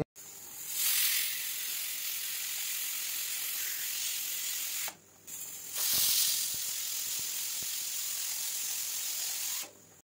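A pressure cooker vents steam in a loud, steady hiss that runs for several seconds, breaks off briefly and starts again, heard close with no talk.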